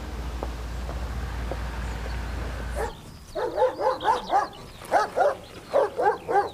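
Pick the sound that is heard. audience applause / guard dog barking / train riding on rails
guard dog barking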